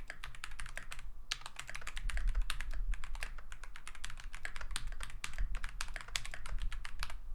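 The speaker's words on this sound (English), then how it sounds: "Keyboard ASMR" A computer keyboard fitted with new switches is typed on steadily. The rapid, crisp keystrokes come close up and fairly loud, with a few short pauses, over a low background rumble.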